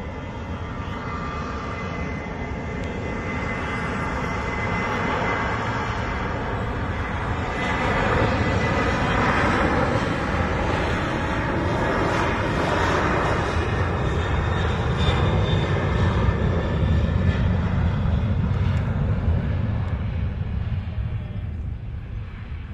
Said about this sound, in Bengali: আমরা একটি দেখতে পাচ্ছি বিশাল বড় বিমান, বোয়িং 737 মডেলের মালয়েশিয়া এয়ারলাইন্সের।